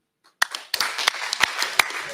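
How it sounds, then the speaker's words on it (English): Applause from an audience at a live-streamed conference event, starting with a few separate claps before settling into steady clapping from a modest crowd, fairly close. "A warm applause again."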